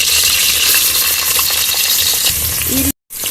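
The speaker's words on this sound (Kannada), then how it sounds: "ಈರುಳ್ಳಿ ಆ್ಯಡ್ ಮಾಡ್ಕೊಂಡು ಚೆನ್ನಾಗಿ ಫ್ರೈ ಮಾಡ್ಕೊಳ್ಳೋಣ" Chopped onions frying in hot oil in a pan for Kannada-style tomato bath, a steady dense sizzle with occasional stirring clinks, close and loud, cutting off briefly near the end.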